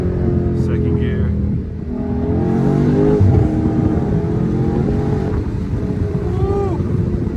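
A straight-piped Dodge Scat Pack roars loudly and close as it accelerates hard in second gear, its raw exhaust note rising through the pull with a brief whoop of excitement from the occupants over the engine.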